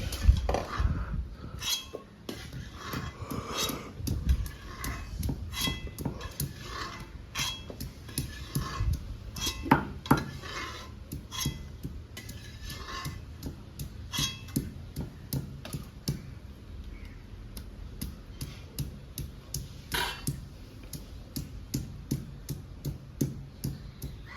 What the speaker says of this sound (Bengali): আমি আদা রসুনটা থেতো করে নেবো বাটবো না থেতো করে নেবো